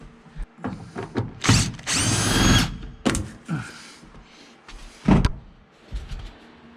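Screws coming out of the interior of a 1978 Trans Am: short bursts of a power driver whirring, knocks and rattles between them, and one longer buzzing run, all close by.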